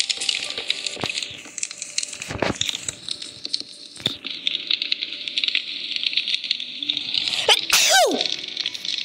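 A single loud sneeze bursts out near the end, after several seconds of light clattering and handling noises close by.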